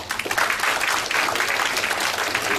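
A seminar audience at an optoelectronics industry talk gives warm, dense applause to welcome a speaker, a continuous wash of many hands clapping at once, steady and fairly loud with no voices on top.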